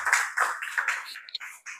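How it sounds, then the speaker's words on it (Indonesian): A group of classmates claps for a presenting classmate in a classroom, a short burst of dense overlapping applause lasting under two seconds, fairly close and lively. "tepuk tangan teman kita"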